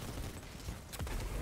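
Gunfire from the Destiny 2 video game, a dense burst of shots around the middle with rumbling game noise underneath, moderately loud and without talk.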